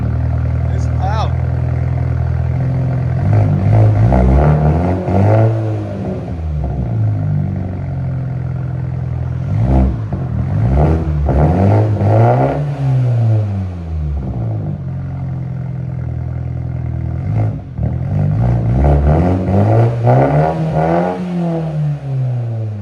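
A 2021 Mini Cooper S Clubman with a 2.0L turbo engine and straight-pipe exhaust revs loudly again and again, each throttle blip climbing and falling in pitch, with the engine idling between the pulls.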